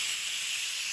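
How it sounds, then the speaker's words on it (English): Steam vents from an Instant Pot after cooking soup, a steady high hiss that holds at an even level for the full second with no voices over it. "I turned off the keep warm cancel button because this we can release the steam."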